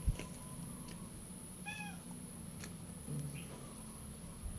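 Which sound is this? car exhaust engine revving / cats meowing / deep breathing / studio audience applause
cats meowing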